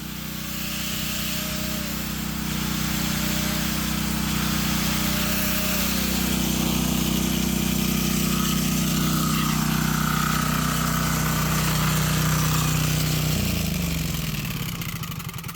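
A homemade diesel generator runs steadily and loud with a constant low engine drone and mechanical hum, then winds down near the end as the engine slows and stops.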